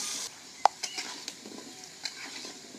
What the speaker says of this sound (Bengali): সামান্য হলুদ দিব, লবণ সামান্য দিয়ে আলুটা ভাজে দেব।